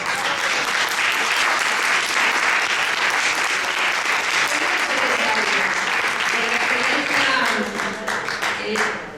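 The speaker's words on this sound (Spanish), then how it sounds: "un aplauso para..." An audience at a gathering on women in politics breaks into sustained applause, loud and thick for most of its length, then thinning near the end as a few voices rise over the fading clapping.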